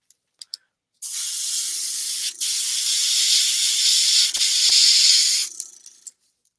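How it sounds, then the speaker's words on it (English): A paint spray gun driven by a failing compressor hisses in one steady burst of about four and a half seconds, with a short break partway through, a low hum beneath it and a few clicks before and after. "Yeah, for sure this compressor will be very dead soon"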